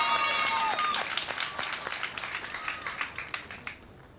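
Crowd applauding at an archery world cup event in Paris, cheering on a compound quarterfinal; dense clapping opens loud and thins into scattered, fading claps.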